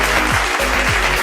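Steady, dense applause from a large audience at an indoor brand awards ceremony, continuous and loud throughout.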